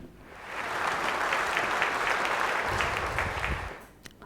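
An audience at a televised Ramadan quiz competition final claps for a correct answer: dense, even applause rises quickly, holds steady for about three seconds, then fades out.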